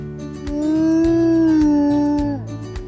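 A single long, sustained wolf howl rises and holds, joined by other wolves' voices, with some thumping in the background before fading out.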